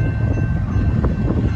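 Loud, continuous low rumble and rattle of a passing BNSF freight train, heavy and close, with no voices.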